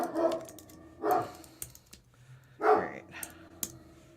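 A dog barks indoors in a few short, separate bursts, moderately close, with scattered keyboard-like clicks between the barks.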